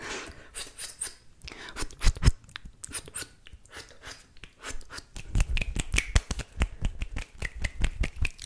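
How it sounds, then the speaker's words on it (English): Close, crisp snipping of scissors mixed with finger snaps and rubbing in an ASMR trigger session, in quick irregular bursts that stop and restart, with faint whispering now and then. "ASMR scissor finger sounds"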